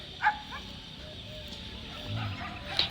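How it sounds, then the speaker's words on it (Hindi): Several dogs bark and yip in the distance across farm fields in a Rajasthan village, short scattered calls over a low outdoor hum, with faint voices in the background. "इधर से कुत्तों की भौंकने की आवाज़ आ रही है"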